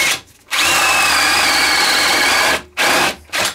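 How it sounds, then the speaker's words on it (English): A power drill drives a screw through wood into a tight-fitting wooden dowel for a dog walking rack, whirring loudly and close for about two seconds, then giving two short follow-up bursts. "we can secure it with a screw"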